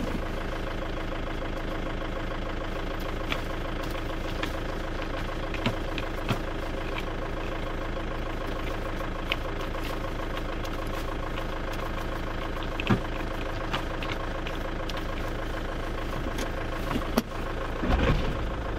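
A Ford Transit van engine idles after a jump start from a booster, a steady low rumble with faint rhythmic ticking and knocking, fairly quiet and continuous.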